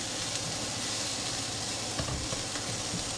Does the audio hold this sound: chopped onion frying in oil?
yes